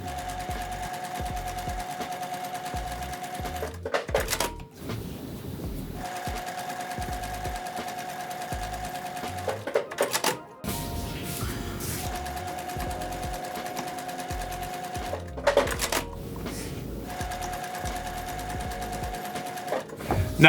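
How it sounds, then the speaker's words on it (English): Sewing machine joining quilt block strips: bursts of steady, rapid stitching close by, broken by short pauses between seams, with no talk. "Gonna assemble my pieces into 3 strips, and then we'll sew those strips together."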